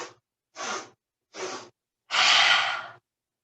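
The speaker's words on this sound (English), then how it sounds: "So 3 quick sniffs in through the nose. And then a big exhale out the mouth as you bend your knees and sweep your arms back." Yoga breathing exercise: three quick, close sniffs in through the nose, each separated by short silence, followed by one longer, forceful exhale out through the mouth.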